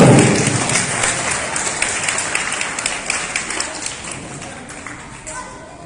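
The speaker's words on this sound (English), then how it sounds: "Can you have a big round of applause to the coaches also?" Audience applause for the coaches at a Diwali decoration exhibition and sale made by special school students; dense clapping starts strong and gradually tapers off over several seconds, with a voice at times.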